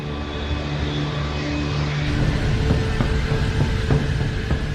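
Sustained roar of a Boeing 747 airliner of JAL flight 123 taking off from Tokyo and climbing, a steady broad engine drone with low rumble that swells slightly and stays loud throughout.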